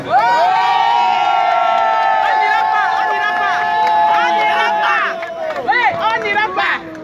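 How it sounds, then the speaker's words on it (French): A crowd at an outdoor gathering in Brussels cheers loudly, with high whoops, shouts and ululating voices rising over the noise, and chanting and talk mixed in throughout. "Applaudissez pour nous."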